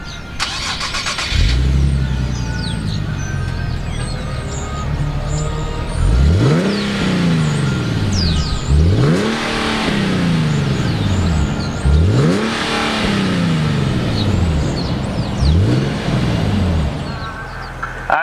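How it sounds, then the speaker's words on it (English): A 2019 Nissan 370Z NISMO sports car cranks and fires up, then is revved repeatedly in four or five rising and falling sweeps, loud and close with no talking. "Let's go ahead and fire up this Nismo Z."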